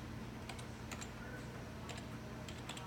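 Someone types on a computer keyboard, a few soft, quiet bursts of key clicks spaced over a few seconds against a faint steady background hum.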